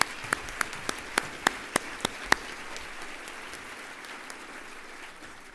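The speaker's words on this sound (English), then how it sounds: "all of these three individuals need one more big round of applause for their volunteer service" Applause at a nonprofit's annual board meeting honoring volunteer board members: a handful of sharp, distinct claps ring out in quick succession over roughly two seconds, then fade into a soft room murmur.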